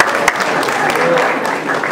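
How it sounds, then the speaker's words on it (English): An audience at a school winter concert applauds with dense, steady clapping that fills the short stretch, with a voice faintly audible beneath it. "Can we give a round of applause?"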